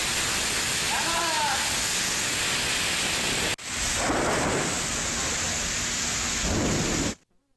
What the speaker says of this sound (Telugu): ఉరుములు మెరుపులతో కూడిన భారీ వర్షం పడింది.